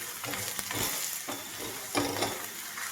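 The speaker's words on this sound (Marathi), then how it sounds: "मिडियम मिडियम गॅसवरच भाजायचे धपाटे खरपूस कुरकुरी कडक होतात" A spinach dhapate flatbread roasts on a griddle over medium heat, giving a steady sizzle and crackle with scraping stirs at intervals, close and moderately loud.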